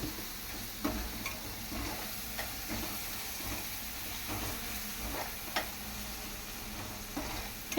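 Spices stirred in a hot frying pan give a steady close sizzle with a soft hiss, broken by faint scraping strokes of the spoon at irregular intervals, with no talking.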